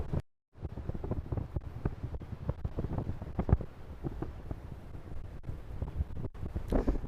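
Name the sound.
strong wind blowing by the ocean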